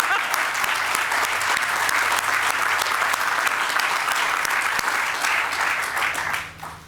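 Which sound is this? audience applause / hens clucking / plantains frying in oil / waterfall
audience applause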